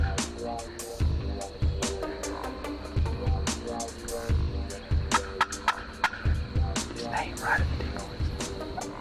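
A wild turkey gobbles repeatedly close to two hunting decoys, with sharp rattling gobbles punctuating steady background noise and hunters whispering nearby.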